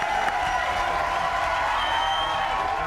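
Crowd applause and cheering for the Bengaluru Dragons and Mangalore Sharks at a box cricket league match, a steady wash of clapping and voices throughout, fairly loud and continuous.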